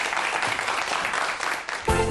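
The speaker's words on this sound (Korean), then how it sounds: "큰 박수 보내주세요." Applause from a lecture audience, a steady wash of clapping for about two seconds that swells louder near the end.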